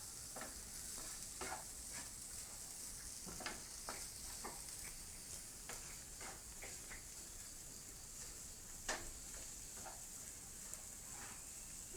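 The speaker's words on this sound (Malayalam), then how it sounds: "നമുക്ക് നല്ലോണം സോട്ട് ചെയ്യാം" Food sautés in a pan with a soft, steady sizzle and high hiss, while a spoon stirs and scrapes at scattered intervals; quiet and close, with no talking.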